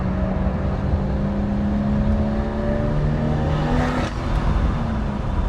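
A BMW car engine revs loudly and steadily up close, its droning tone climbing and falling over several seconds, with no talk.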